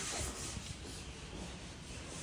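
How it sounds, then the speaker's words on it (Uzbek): Wooden doors being sanded in a woodworking shop, giving a steady, dense abrasive rubbing that runs continuously and fairly loud with no pauses or voices. "Bu tarafda o'sha jilvirlar tayyorlanyapti."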